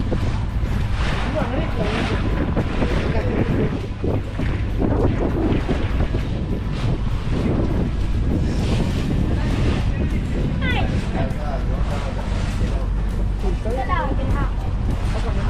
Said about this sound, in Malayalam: നല്ല കാറ്റും സുഖമുണ്ട്